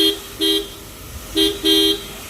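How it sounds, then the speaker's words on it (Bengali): A Maruti Suzuki S-Presso car horn is tested during servicing. It sounds four short, loud, bright honks in an uneven rhythm: two separate beeps, then two more close together, over a low background hum. "তো হর্ন টেস্ট চলছে, আমি আবার হর্নটা প্রেস করে দেখে নেবো যে পরে হর্নটা কেমন বাজছে"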